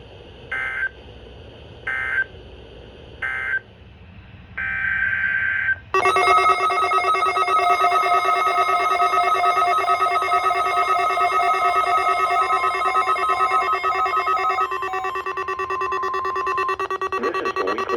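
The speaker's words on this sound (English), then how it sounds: "This is the weekly test of the NOAA radio warning device." A NOAA weather radio warning device runs its weekly test, opening with a few short beeping bursts before a loud, sustained steady alarm tone that holds for over ten seconds and then drops slightly in level.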